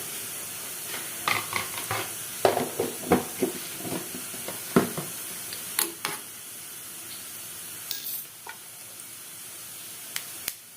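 Cumin sizzles steadily in hot oil in a pan, broken by sharp clinks and scrapes of a spoon stirring, with no voices.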